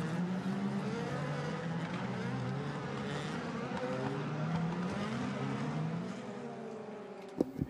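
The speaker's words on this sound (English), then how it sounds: "So the cars then on the second of their warming up laps." DTM race cars on a warm-up lap behind the safety car at the Norisring circuit in 2017, a dense, continuous engine drone with shifting pitches as several cars pass, steady and fairly loud throughout.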